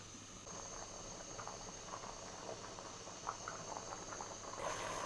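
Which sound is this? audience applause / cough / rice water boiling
rice water boiling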